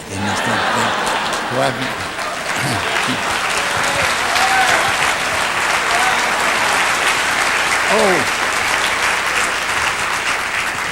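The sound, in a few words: audience applause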